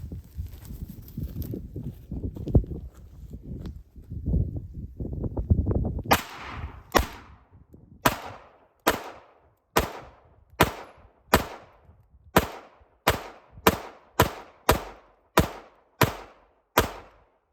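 A Radian Afterburner/Ramjet paintball marker fires about a dozen sharp, close shots at a steady, quickening rhythm, following several seconds of low rumbling handling noise and no talk.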